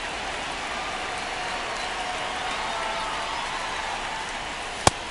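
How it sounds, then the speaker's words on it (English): Steady rain falls across a baseball stadium at Citizens Bank Park, a constant moderate hiss with a single sharp click near the end and no talk. "This rain is not letting up."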